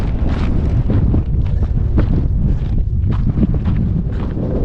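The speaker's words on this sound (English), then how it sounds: "Just a little bit windy, but still." Wind buffeting the microphone on a beach in Lanzarote, loud gusty roar that rises and falls throughout.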